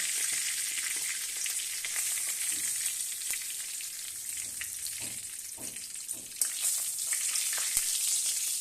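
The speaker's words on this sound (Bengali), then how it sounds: "তেলের মধ্যে আমি গোটা তেজপাতা দিলাম আর অল্প একটু পাঁচফোড়ন দিলাম" Whole bay leaves and a little panch phoron fry in hot oil, giving a steady high sizzle with faint occasional spits and a couple of utensil knocks, close by and with no talk.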